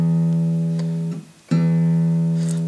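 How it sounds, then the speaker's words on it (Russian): A low bass note rings from the sixth string of a guitar, pressed down and plucked, sustaining steadily, briefly damped, then struck again and left ringing, close and clear with no voices. "Я ставлю на шестую струну и продавливаю ее вниз пальцем. И у меня получается такой в басу звук,"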